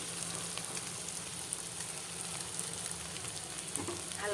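Ground spices including cumin, coriander, turmeric and salt sizzle steadily in hot oil in a pan, with a continuous close frying hiss and a few soft stirring scrapes, no talking.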